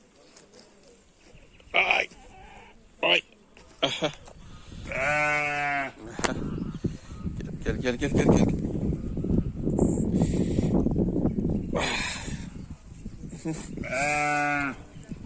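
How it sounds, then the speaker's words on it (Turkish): Several sheep bleat nearby at a zoo in Štip, loud wavering cries between stretches of a man calling out repeatedly, with outdoor rustle in the background. "Bunlar da aynen bildiğimiz koyunlara benziyor."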